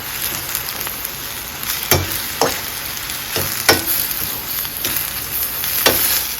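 Chopped onion going into ground beef frying in a pan for tacos: a steady, loud sizzle with several scraping stirs that stand out at uneven intervals.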